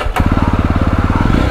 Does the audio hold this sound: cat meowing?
no